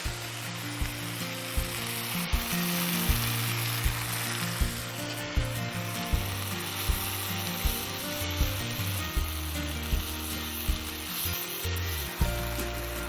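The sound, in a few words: onion paste frying in pan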